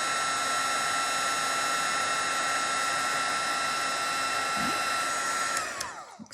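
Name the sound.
heat tool melting gold embossing powder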